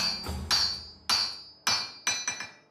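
A blacksmith in Bukhara, sixth generation of a forging family, strikes hot metal at the forge with a hammer: five sharp, ringing blows at an uneven pace, close and loud, each followed by a short metallic decay.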